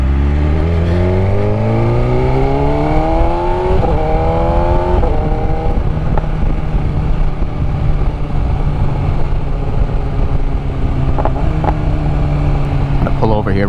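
A 2020 BMW S1000RR liter-bike motorcycle revs and pulls hard through rising gear changes, its loud engine roaring under heavy wind rush as it rides at speed, then settles into a steady drone with a few later rev blips.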